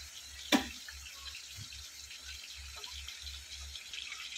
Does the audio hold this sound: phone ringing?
no